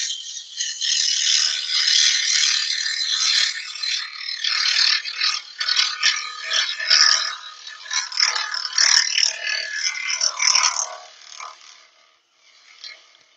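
A wood lathe turning a yew bowl at a higher speed, giving a continuous rattling, scraping whir of the tool cutting the wood. The sound stays loud for about eleven seconds and then fades away.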